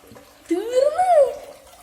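Almarai full fat milk poured from its carton, a short gurgling stream whose pitch rises as the container fills, close and alone for under a second.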